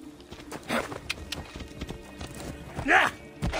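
Horse hooves clop briefly alongside a short whinny in the video game Assassin's Creed Odyssey, mixed with game-like ambience and faint background sounds.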